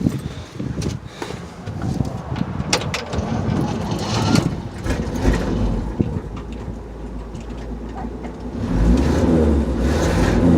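A 1964 Chevy 250 straight six with a Rochester single-barrel carburetor idles after a cold start without starting fluid, a rough, uneven close engine rumble that swells louder near the end, with no talk.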